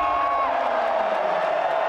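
A live crowd roars and whoops at a main-event fight at ONE Fight Night 10, a dense sustained cheer filling the arena without pause.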